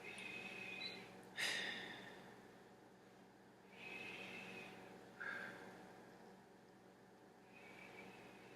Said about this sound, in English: You can take some deep breaths.